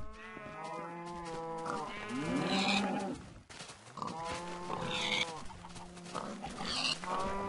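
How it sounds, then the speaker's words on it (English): Pigs in a Minecraft-style survival game, their grunts and oinks repeating in short bursts over a loud, layered background of game sound and music, heard close and continuous. "Pigs are spawning."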